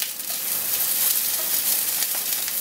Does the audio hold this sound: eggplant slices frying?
yes